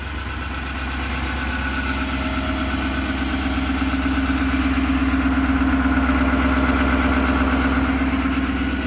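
Enpak welder generator on a 2019 Ford F550 service truck with 111k miles, running at a steady idle, a close, continuous droning engine hum with even vibration throughout and no talk.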